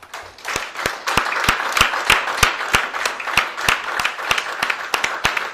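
A church congregation clapping together in a strong, steady rhythm, loud and sustained, with the crowd's noise blending into the beat.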